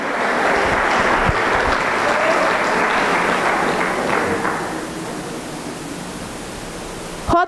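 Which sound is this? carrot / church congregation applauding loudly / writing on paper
church congregation applauding loudly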